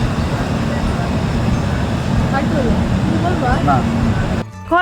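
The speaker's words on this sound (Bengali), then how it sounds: "শালিমার স্টেশন থেকে আমাদের ট্রেন ছেড়ে দিয়েছে" Interior of the Puri Garib Rath AC express train pulling out of Shalimar station, a steady loud low rumble of the carriage throughout, with faint squeaky tones and a sudden change near the end.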